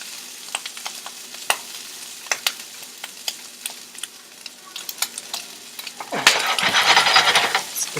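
Garlic fries in a pan with a soft, continuous sizzle punctuated by scattered sharp pops and clicks, then a louder burst of hissing near the end as more goes in, close up.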